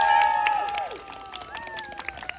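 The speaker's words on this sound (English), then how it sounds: "Let's give North Clan a big round of applause." A crowd at the 2021 millstone race cheers and claps for North Clan, a burst of applause and shouting that starts loud and tapers slightly, with a few high whistles or calls over it.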